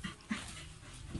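A dog that has just given birth to a litter of seven puppies whimpers and pants softly in short, close bursts, a brief faint whine rising over low rustling.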